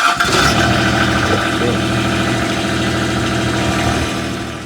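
A tractor engine cranks and catches, then settles into a steady, loud, rumbling idle close by with no talking over it.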